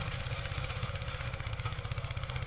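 Massey Ferguson 5118 mini tractor driving a 3.5-foot rotavator through black sticky clay soil, a steady pulsing diesel chug with gritty mechanical churning, moderately distant and without talk.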